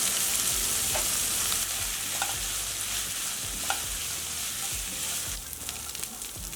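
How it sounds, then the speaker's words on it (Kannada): Sliced onions and soaked peas sizzle steadily in hot oil, a continuous dense frying hiss with occasional soft stirring scrapes and small pops, close and fairly loud with no talking. "ಈರುಳ್ಳಿ ಎಲ್ಲ ಚೆನ್ನಾಗಿ ಫ್ರೈ ಆಗಿದೆ"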